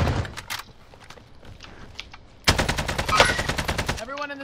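Rapid automatic gunfire from a video game battle royale match, opening with scattered sparse shots and footsteps, then a dense, loud sustained burst of machine-gun fire lasting about two seconds, followed by a short electronic tone; a voice speaks briefly underneath.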